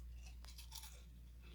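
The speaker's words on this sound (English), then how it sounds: "They're crunchy and they're so good." Elderberry flower fritters give a single sharp, crisp crunch when bitten, close to the microphone, followed by a few faint chewing sounds over a low steady hum.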